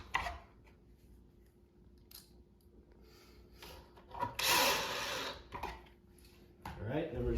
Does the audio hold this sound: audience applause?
no